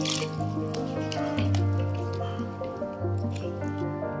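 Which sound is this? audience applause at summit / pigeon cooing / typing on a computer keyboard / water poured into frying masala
water poured into frying masala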